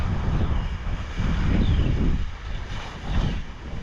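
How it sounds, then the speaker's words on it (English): Gusty wind blowing outdoors and buffeting the microphone in broad rumbling swells, fairly loud, with no voices. "Oh, it's windy."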